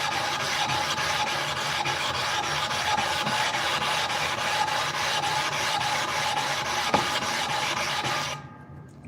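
A blade being sharpened on a 1000 grit whetstone, a continuous wet, gritty rasp with rhythmic strokes, close and steady, stopping abruptly near the end.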